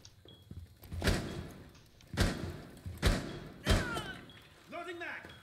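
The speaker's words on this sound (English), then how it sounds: "Wall fortified." Wall reinforcement in the video game Rainbow Six Siege: four heavy, evenly spaced metallic thuds landing roughly a second apart, close and loud, with a brief voice and game sounds between them.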